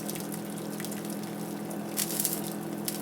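Rendered beef fat, left from dry-method tallow making with cracklings, pours from a pan through cheesecloth as a steady liquid trickle and gush, close and fairly loud, alone with no talk.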